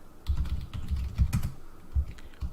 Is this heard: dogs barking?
no